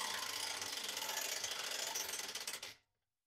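A hand ratchet tightening a nut on a 2022 Tao Motor DB-27 dirt bike, giving a rapid, close series of loud clicking pawl strokes for under three seconds before stopping abruptly.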